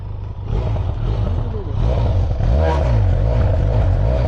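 A Benelli TRK 502 twin-cylinder motorcycle engine idles loudly up close, then is revved with a rising, sustained throaty roar that stays loud to the end.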